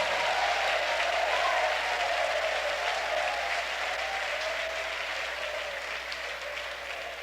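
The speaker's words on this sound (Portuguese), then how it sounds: "Batem palmas e glorifiquem ao Senhor." A church congregation claps steadily together during a worship service, a dense, even patter of hands that slowly fades slightly, with no voices over it.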